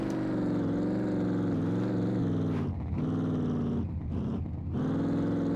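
A car in SCUM drives at high speed with a loud, steady engine drone that dips and surges briefly as it drifts, with no talking.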